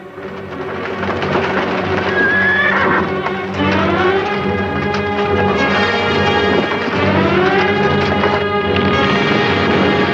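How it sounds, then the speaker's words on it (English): Horses galloping and neighing in a Western drama scene, a continuous loud rush of hooves and whinnies layered under a full orchestral score, with no talk. "With these two horses coming down on top of me"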